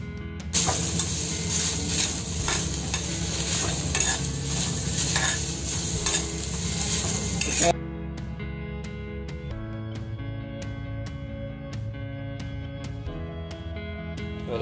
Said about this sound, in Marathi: आता कांदा वगैरे भाजून झालेलो असा